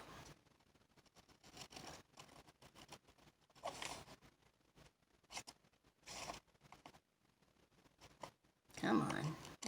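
Scissors snipping paper while making a junk journal, a series of short crisp cuts close by, with a louder burst of handling near the end.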